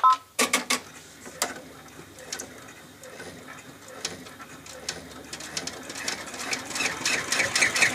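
An embroidery sewing machine tacking down a leaf applique on a zipper pouch, a fast close mechanical stitching rattle after a few sharp starting clicks, growing busier toward the end.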